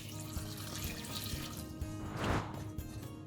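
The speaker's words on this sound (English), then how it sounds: "And then we add water to submerge the vegetables." Water pours into a pot of chopped vegetables for coconut-milk potato soup, a steady close splashing that swells into a brief louder gush near the end, with no talking.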